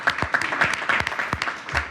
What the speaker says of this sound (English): I think that is a round of applause